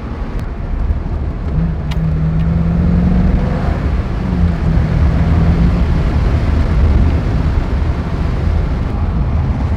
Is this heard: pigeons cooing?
no